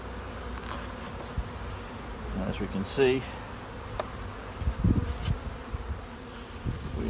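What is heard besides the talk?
honeybees buzzing in a hive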